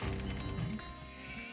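Sheep bleating in the real-time strategy game Age of Empires 2, a short wavering bleat sitting among dense, loud game sounds with no talk.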